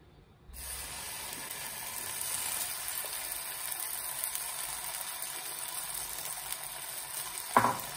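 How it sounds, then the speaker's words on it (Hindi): Oil and uttapam batter in a hot pan set up a steady, loud frying hiss that starts suddenly and holds for several seconds, close up, with a brief clink of a utensil near the end. "पैन गरम है,"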